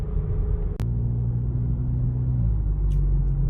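A 2022 VW Polo GTI fitted with an aftermarket downpipe gives a low, steady engine rumble close by, with a brief sharp transient early and a slight shift in pitch partway through, no talking.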